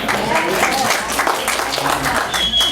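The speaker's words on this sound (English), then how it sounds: "can I get a round of applause?" A round of applause rises from attendees at a West Wildwood town meeting, a fairly loud burst of clapping with voices mixed in, sounding close and crowded in the room.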